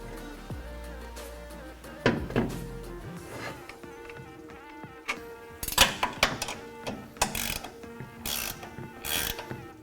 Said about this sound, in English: Raise the strut into position, then install the top 3 nuts